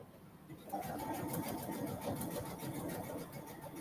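A domestic sewing machine runs steadily as it top stitches a pocket seam on a striped fabric project. It starts after a brief pause and then hums evenly and continuously at moderate volume, with no talk over it.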